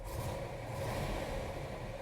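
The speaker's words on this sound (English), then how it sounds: "Starts right up, idling about 900 RPMs." A 1964 Chevrolet Impala SS with the 409 V8 idles at about 900 RPM, a quiet, even, low rumble that holds steady throughout with no revving.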